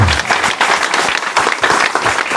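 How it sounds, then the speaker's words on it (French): Loud, close audience applause at the inauguration of the renovated Acarouany chapel: dense, continuous clapping from a crowd with no pause. "Et on applaudit bien fort, s'il vous plaît."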